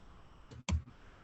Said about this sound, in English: And all I'm doing is clicking on the next space.